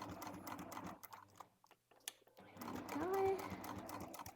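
A sewing machine runs stitching a bag seam open in short bursts with a pause midway, its rapid mechanical chatter close and moderately loud, with a voice speaking alongside.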